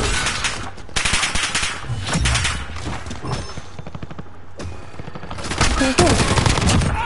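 Rapid automatic gunfire rattles in Call of Duty Warzone: loud, dense bursts of shots stack up with short gaps between them, and a voice is heard faintly alongside.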